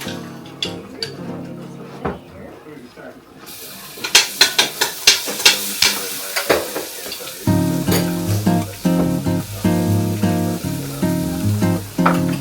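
Garlic sautéing in hot oil for adobo ribs, a busy crackling sizzle that swells after a few seconds of quieter kitchen noise, with stirring clatter, all under steady background music.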